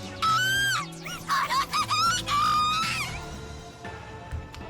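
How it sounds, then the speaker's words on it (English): Moeka, a Steins;Gate character, screaming in a series of high, wavering cries that break off and resume, loud and close over a low background hum with faint music. "Moeka suddenly screams."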